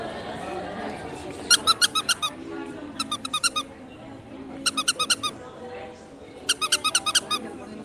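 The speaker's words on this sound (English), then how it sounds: "It's a funny squeaky sound." A squeaky toy squeaks in four quick bursts of rapid repeated squeaks, fairly loud and close, over a murmur of background chatter at Disney's Hollywood Studios.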